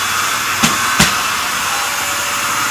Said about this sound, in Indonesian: Oke, kita vakum.